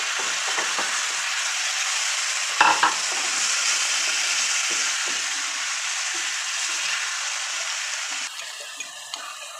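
Pre-boiled beef frying with sauce in a pan makes a continuous bright hiss. Scraping stir strokes and a brief clatter rise above it partway through, and no one speaks.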